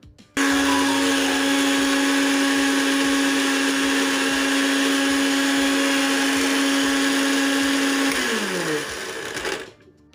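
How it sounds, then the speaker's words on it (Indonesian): A blender grinds spice paste for beef teriyaki, a loud steady motor whine running nearly ten seconds before winding down and cutting off, close and without talk. "karena saya menggunakan blender ya"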